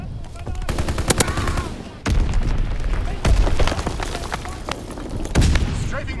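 A Fritz X bomb drops and detonates in the World War II shooter Call of Duty: WWII, with heavy booming blasts landing among steady rattling gunfire on a noisy battlefield.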